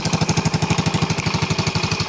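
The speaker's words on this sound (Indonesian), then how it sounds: "Jadi di sini itu knalpotnya bocor" A Yamaha Mio M3 scooter engine with a leaking exhaust runs alone at a fast, even idle, each beat a sharp puttering pulse with a raspy hiss, loud and close.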